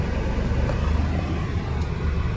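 A Honda Accord G8 with a 2.0 engine idles steadily while the gear selector moves from R to N to D, giving a continuous low rumble, close and even, with no voices.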